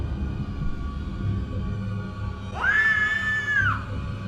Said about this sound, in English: lovely little scream coming from my maths class